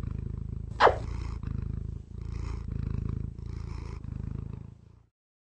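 A cat purrs in a slow cyclic rhythm, loud and close, each breath-long pulse low and rumbling, with a brief sharp squeak near the start and the purr fading out at the end.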